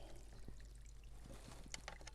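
Water drains from the bottom cap of a Sand Pro pool sand filter, a faint steady trickle and pour with a few small knocks and clinks, heard up close and alone.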